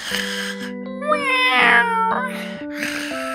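Cartoon cat meowing in a children's animated series, a drawn-out, bending vocal cry rising over a steady musical backing, fairly loud and close.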